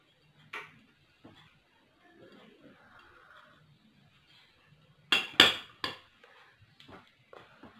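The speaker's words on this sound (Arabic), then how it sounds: "نخلط كلشي بشويه تاع الماء" Clinks and scrapes of a utensil against a bowl while mixing garlic, herbs, water and lemon juice, sporadic at first, then a quick cluster of sharp knocks, with quiet rustling between.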